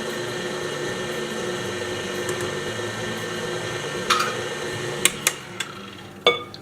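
An electric mixer whirs steadily through cookie dough as flour is added bit by bit for old-fashioned Christmas cookies, a continuous motor drone with a few sharp clicks and knocks of the bowl near the end.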